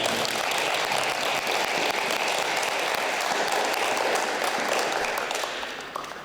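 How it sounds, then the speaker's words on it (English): An audience at a school literacy celebration applauds continuously, a full steady ovation of many clapping hands that begins to thin and fade in the last second. "Let's give another round of applause for Dr."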